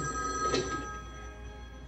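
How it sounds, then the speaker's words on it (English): A telephone bell rings in a scene from the sitcom Sanford and Son, a steady, faint, continuous ring with no talking. "the phone rings."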